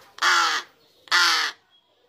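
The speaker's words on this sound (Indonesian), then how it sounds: "jenis gaok ya, gagak besar" A large crow in Bandung, Indonesia, a young bird still learning to fly, gives two loud, harsh caws about a second apart, close and clear against a quiet background.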